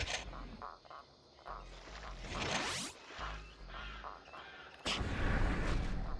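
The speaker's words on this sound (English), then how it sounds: "Yeah, I forgot you can do dual pistols here." Dual pistols fire in the shooter Killing Time: Resurrected, with several sharp bursts over a game soundscape and a loud blast near the end, all without voices.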